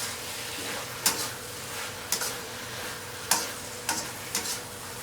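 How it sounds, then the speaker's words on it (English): Shredded potatoes with seasonings being stir-fried in a wok: a steady, soft sizzle runs throughout, broken by four or five sharp scraping clatters of the spatula against the pan at irregular intervals. "Stir-fry the seasonings and potato shreds thoroughly until they are fully absorbed"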